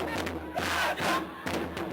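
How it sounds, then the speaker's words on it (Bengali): A crowd of students cheering over exam results, a chorus of excited shouting voices rising and falling in a few waves with some thumps, moderately distant and not very loud. "প্রতি বছরই বাড়ছে এরকম উল্লাসের আওয়াজ"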